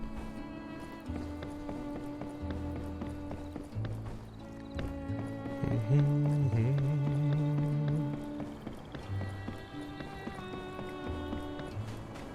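Horse hooves clip-clopping steadily in the game My Time at Sandrock, a continuous trotting rhythm set against sustained background music, with no talking.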